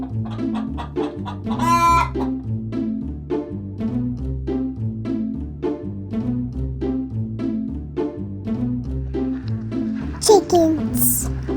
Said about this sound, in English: Rooster says cock-a-doodle-doo!